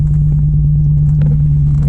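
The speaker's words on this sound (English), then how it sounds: "I'm going to start up the car." A modded Dodge Challenger sits running with a loud, steady low rumble and strong engine hum throughout, close by and with no talking; the start itself is not distinct.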